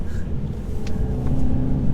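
A 2017 Mercedes C200 coupe's two-litre engine drones steadily from inside the cabin while driving, a low, even rumble that builds slightly toward the end.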